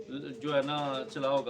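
Pigeons coo softly in the background while someone talks steadily over them.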